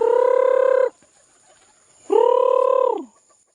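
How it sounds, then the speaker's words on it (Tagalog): A red junglefowl gives two long, loud, clear calls close by, separated by about a second of near silence, the second call trailing off at its end. "andito pa rin yung manok na labuyo"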